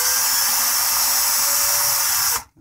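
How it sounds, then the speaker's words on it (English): Cordless power drill spinning to twist LED wires together, a loud steady high whine running continuously before stopping abruptly near the end. "and then just turn the drill on"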